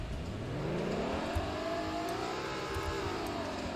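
A 2020 BMW M760Li engine starting up, catching and revving smoothly upward before settling into a steady idle hum, moderately quiet and heard alone.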